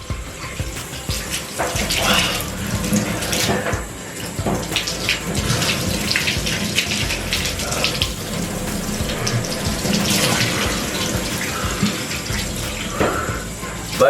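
Cold shower water running hard and close, a loud continuous spray splashing with small shifts in the stream as it moves, steady for the whole stretch.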